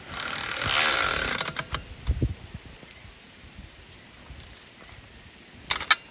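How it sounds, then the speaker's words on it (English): Ratchet tightening bolts on a hitch-mounted winch plate: short bursts of rapid clicking, a few scattered metallic knocks and pauses, close and fairly loud with no talking. "These bolts in here in the bottom, mounted to it. Tighten these up."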